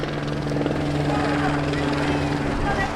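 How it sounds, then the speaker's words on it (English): Police helicopter overhead above a crowded Philadelphia block party, a steady rotor drone with a low thrumming hum beneath lively crowd chatter and voices. "Yo, they really got the helicopter out though."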